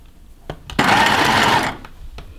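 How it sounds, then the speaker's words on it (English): A mini JL sewing machine zigzag-stitches jersey fabric in a single loud, close whirring burst of about a second, framed by a few soft mechanical clicks before and after. "I'm going to use a zigzag stitch F on my mini JL to do it"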